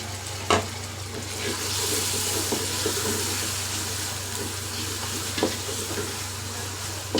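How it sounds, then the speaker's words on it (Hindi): Chopped tomatoes drop into oil with frying onion masala for a desi chicken qorma, setting off a steady loud sizzle with a few sharp clatters and stirring scrapes from the pan. "यहाँ पर ये जा रहे हैं टमाटर, इसके अंदर छलांग लगाने।"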